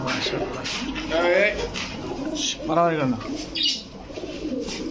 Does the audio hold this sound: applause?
no